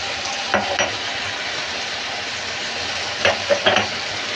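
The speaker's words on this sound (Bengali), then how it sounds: "এগুলো দিয়ে ভালো করে কষিয়ে নেব" Ground turmeric, coriander and cumin fry with ginger paste in a pan, giving a steady low sizzle broken by a few short scraping stirs of a spoon or spatula.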